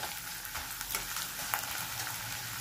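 Chopped garlic and onion fry in a pan as a steady close sizzle, with a few soft stirring scrapes and taps breaking through; no one speaks.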